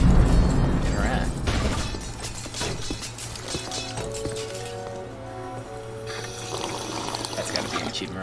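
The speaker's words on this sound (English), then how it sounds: "Gotta get a nice sip of water." A character sipping water in Ghostbusters: The Video Game, heard as a liquid pour and trickle with light clinks and mechanical game noises layered beneath.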